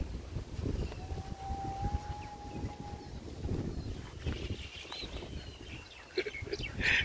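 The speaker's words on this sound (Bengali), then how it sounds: "দারুণ হাওয়া চলছে" Wind gusting across an open village, a broad low rumble buffeting the microphone throughout, with a faint tonal whine passing briefly and a few distant chirps near the end.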